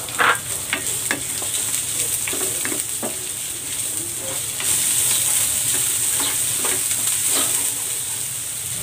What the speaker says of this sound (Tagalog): Magigisa na ako ng bawang. Gigisa ko na rin tong sibuyas.